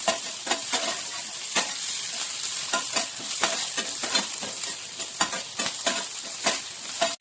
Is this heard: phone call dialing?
no